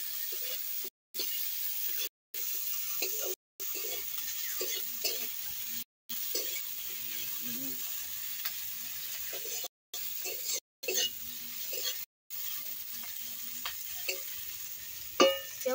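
Onions frying in oil in a pan until reddish for a fish korma, a soft continuous sizzle with occasional stirring clinks, close but quiet, broken by several short silent gaps.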